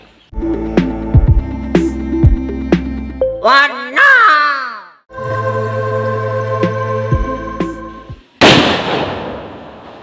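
Diwali firecrackers over festive music: whistling rising sweeps followed by a sharp, loud crackling burst near the end.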